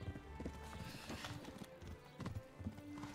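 Horse hooves in the video game Kingdom Come: Deliverance clip-clop in a steady trotting rhythm, close and continuous, with a faint whinny mixed among the game's background sounds.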